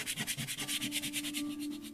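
Sandpaper rubs across a watercolor painting in quick, regular back-and-forth strokes, a close, soft scratchy rasp repeating steadily with no talking.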